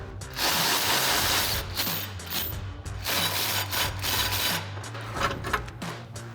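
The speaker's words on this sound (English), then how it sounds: "So now we're gonna grab our 18mm socket and remove the 4 mounting nuts on each frame horn." A ratchet with an 18mm socket works loose the frame horn mounting nuts on a Jeep Wrangler JL, giving steady close rasping and clicking with short rhythmic pauses over a constant low hum.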